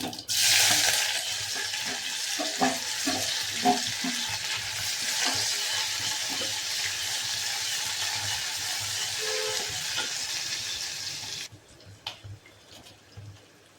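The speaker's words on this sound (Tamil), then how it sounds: "பொரிச்சது வெங்காயம் போடுவோம்." Onions sizzle steadily in hot oil for several seconds while making a potato curry, with a few soft clinks of stirring, before the frying sound suddenly drops away near the end.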